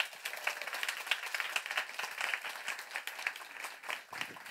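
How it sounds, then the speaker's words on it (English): An audience at a food sustainability session applauds, a steady dense patter of many hands clapping at moderate distance throughout, with no pause. "Big round of applause for the first half."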